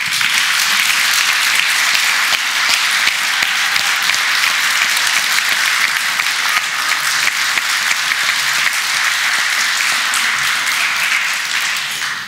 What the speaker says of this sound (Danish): vi må gjerne klappe